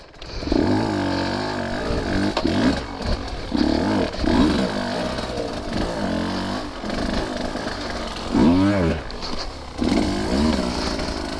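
A 2023 Husqvarna TE150 two-stroke dirt bike ridden on single track, its engine revving up and down in repeated rising and falling surges, loud and close throughout.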